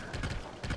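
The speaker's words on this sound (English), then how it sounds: "Skeletal horse." Hooves of a skeletal horse in the video game The Legend of Zelda: Tears of the Kingdom, a few quick clip-clop steps heard close and clear in a short burst.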